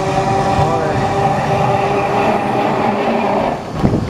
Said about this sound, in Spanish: por allá al fondo veo un famoso tranvía